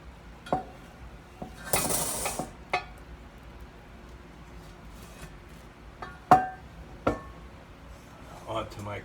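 A crispy cheesy pan pizza is pried out of its metal pan, with scattered clinks and scrapes of metal, one longer scraping rub, and light knocks against the pan at close range in a quiet kitchen.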